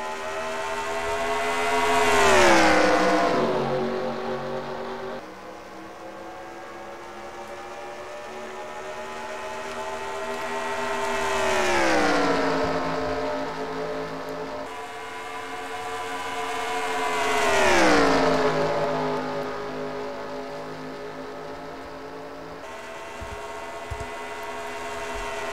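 Race cars at a Texas oval qualifying race, engines rising to a loud whining pass-by then fading, three long sweeping passes in turn, no talk.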